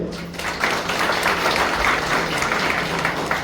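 An audience clapping for teachers at a taluka school science exhibition, a steady wash of many hands applauding at moderate loudness across a hall, with no speech over it.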